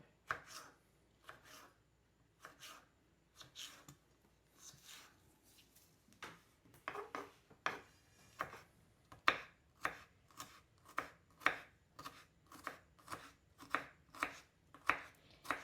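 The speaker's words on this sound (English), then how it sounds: "I'm just going to slice this up" A knife slices through vegetables on a board while preparing a Southern tomato pie, a steady run of crisp, close chopping strokes that quickens into an even rhythm toward the end.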